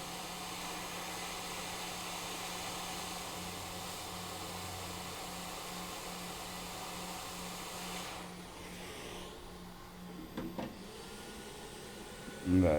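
Hot-air rework station at 390 °C blowing on a chip to desolder it from a Surface Pro 4 board: a continuous close, even airy roar that thins out partway, with a few small clicks and a knock at the end.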